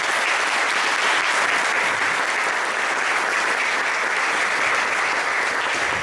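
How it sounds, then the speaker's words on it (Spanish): Conference audience in Capilla del Monte gives sustained applause during a talk by Ricardo González, a thick, even wash of many clapping hands holding at a constant level throughout. "Así que un aplauso para ellos."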